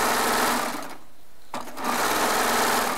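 A Baby Lock serger runs fast and loud through jelly roll quilt strips, halts for about a second, then whirs back to full speed.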